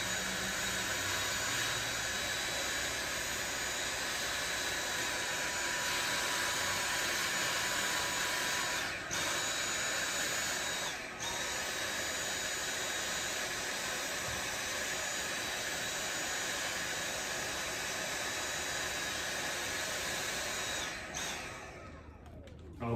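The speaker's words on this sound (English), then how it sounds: "I'm just gonna vacuum this area to get the crumbs up." A vacuum cleaner sucks up crumbs near a PC during a heatsink cleanup, running as a steady, loud whine for the whole stretch with a couple of brief dips before it cuts off at the end.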